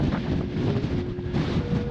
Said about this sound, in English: Anyway, really windy.